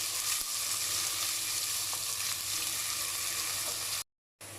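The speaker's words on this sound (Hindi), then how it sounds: "मैं इसके अंदर एक बड़ी प्याज जो है छोटी छोटी काट के ये शामिल कर रही हूँ, और प्याज को भी इनके साथ अब करेंगे फ्राई" Chopped onion frying in hot oil for an egg and spinach curry, a steady close sizzle with faint crackles that continues without a break until a brief cut near the end.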